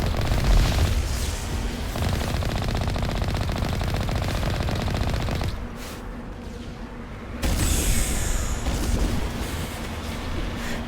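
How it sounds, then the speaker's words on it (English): Rapid automatic gunfire from a shooting fight in the video game Mass Effect 1 Legendary Edition, sustained bursts of fire with a brief lull in the middle before the shooting resumes, loud and continuous. "I need to stop and shoot."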